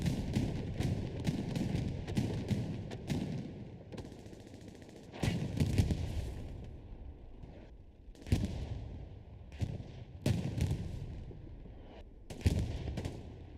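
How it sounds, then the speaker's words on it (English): Gunfire and tank fire in the World War II shooter Hell Let Loose during a competitive match, with rapid machine-gun bursts and heavier distant booms layered throughout at moderate volume, with no speech. "Light tank firing, medium tank pushing into point right here."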